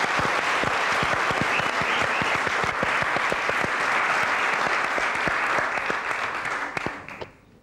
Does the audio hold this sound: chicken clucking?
no